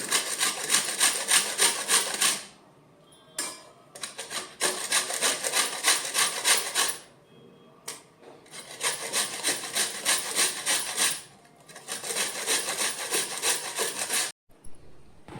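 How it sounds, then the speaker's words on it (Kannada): A block of jaggery is grated into powder by hand, heard as loud, close, rhythmic scraping strokes in bursts of several seconds, separated by brief pauses. "ಈಗ ಒಂದು 2 ಗ್ಲಾಸ್ನಷ್ಟು ಬೆಲ್ಲ ಪೌಡ್ರ್ ಮಾಡಿ, ಅಂದ್ರೆ ಅದು ಗಂಟು ಉಳಿಬಾರ್ದು, ಅದಕ್ಕೆ ಹೆರದು ಬಿಡ್ಲಿಕತ್ತೀನಿ."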